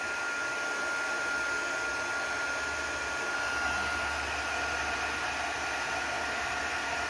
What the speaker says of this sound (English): Let me emboss that, get the heat tool over